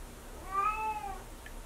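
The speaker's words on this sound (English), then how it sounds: "I'm sorry about my cat, really I am." A single drawn-out cat meow sounds nearby, clear and tonal, against a quiet background.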